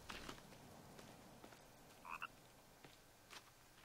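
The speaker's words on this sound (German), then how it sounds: "Frosch. Teich." In The Forest, a frog croaks at a woodland pond: a few faint, brief croaks, with one clearer double croak in the middle, set against quiet rustling ambience.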